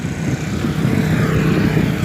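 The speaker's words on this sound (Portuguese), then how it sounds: "Uma moto." A motorcycle engine drones loudly and steadily close by, a low rumbling hum that builds slightly as it passes, heard from a bicycle ride.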